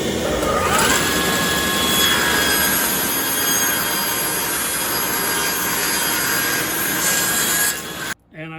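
A saw rips 3/16 inch maple strips, a loud, steady whining cut that holds for several seconds before the blade winds down at the end.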